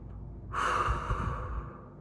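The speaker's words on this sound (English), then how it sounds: "take a deep breath" A single deep breath taken close to the microphone, a quiet start followed by a long breathy inhale-exhale swell lasting about a second and a half, then fading away, with no talking.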